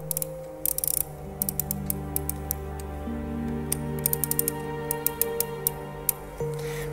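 The clockwork mechanism of a restored automaton being wound by hand, quick bursts of small ratcheting clicks and ticks over a steady low mechanical hum.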